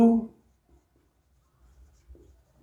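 Writing on a board during a Class 12 physics lecture on wave optics: faint, scattered scratchy strokes after a brief voice at the start, in an otherwise quiet room.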